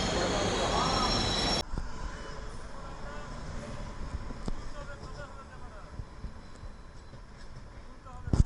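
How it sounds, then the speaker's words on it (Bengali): Aboard the Darjeeling Mail after leaving Bardhaman station, a loud roar in the first seconds drops to the steadier rumble and clatter of the moving carriage, with faint voices nearby. "এখন আমরা রয়েছি ট্রেনে।"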